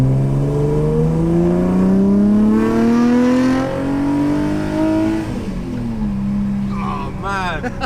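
Inside a BMW E30 fitted with a 327i engine, the induction roars loudly and rises in pitch under acceleration before easing off, with a voice briefly heard over it.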